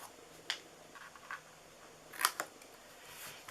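Scissors snip paper for a Christmas reindeer candy cane treat holder, giving a few faint, separate cuts spread across a quiet room.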